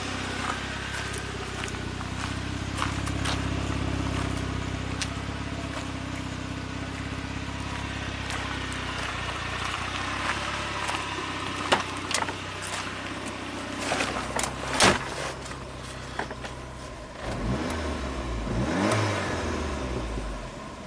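A 1993 Saab 9000 CSE Turbo engine runs and revs up close, a steady mid-pitched hum rising and falling with throttle blips, then fading toward the end amid faint clicks and footsteps.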